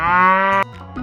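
A cow lowing in one loud, drawn-out moo that cuts off abruptly, followed by a faint trailing sound.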